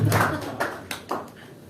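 A church congregation clapping, several distinct claps landing in loose rhythm over about a second, with a voice heard at the start.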